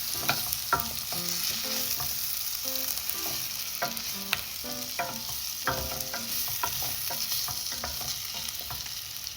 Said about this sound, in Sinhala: ඒකත් දාලා ඒක ඉතින් ලාවකට බැද ගන්නවා.